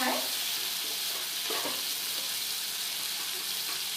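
Tomatoes and green chillies frying with ginger and garlic in a pan for an Assamese fish head curry, a steady close sizzle throughout with a few brief stirring scrapes near the start.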